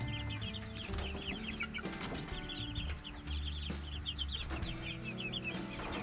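Young chickens a few months old at a homestead chicken coop cluck steadily and overlap one another in a busy, close-up chorus.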